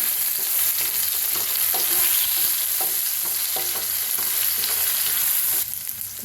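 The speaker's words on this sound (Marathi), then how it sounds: "त्याच्यात घाल्या मिरची जो बारीक कुटून घेतलेली आपण तर छान भाजून घेऊया आपण" Finely crushed green chilies fry in hot oil in a pan, a loud continuous sizzle with repeated spatula taps and scrapes through the middle, easing off slightly at the end, with no speech.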